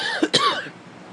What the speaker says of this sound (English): I've got a cough I've had for 6 months.